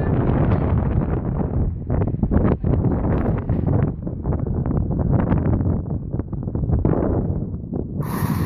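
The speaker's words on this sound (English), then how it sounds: "I apologize if the wind is really annoying." Gusty wind buffets an outdoor microphone with a steady, loud roar and rumbling low-end thumps throughout, covering the whole stretch without any clear voices or other sounds.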